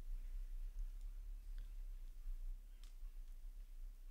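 A few faint, quick mouse clicks sound at scattered moments while someone works in MikroTik router configuration software, set against a quiet, steady low hum.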